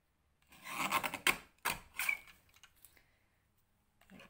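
Scissors or a trimmer cut along the edge of a stamped paper card, giving a few quiet close rasping snips and rubs in short bursts with pauses between them.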